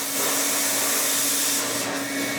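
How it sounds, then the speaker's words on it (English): Shop vacuum drawing loose dirt out of the inside of a Ferrari 360 headlight during restoration, a steady close whine and rush of suction holding level throughout with no talk. "this is just to get all the loose dirt to kind of blow around and then be sucked out by the vacuum"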